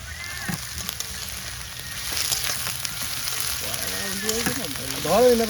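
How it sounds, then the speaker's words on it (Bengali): Potatoes fry in a pan in a village kitchen, a continuous moderate sizzle with occasional stirring, while voices and bird-like chirps rise faintly in the background toward the end. "তাই একটু আলু ভাজা করা হচ্ছে"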